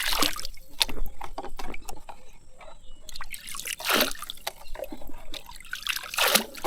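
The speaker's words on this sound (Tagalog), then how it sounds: "Wala na, papasok na yung tubig." Water trickles in with irregular close dribbles and small splashes, bursts coming and going over several seconds without speech.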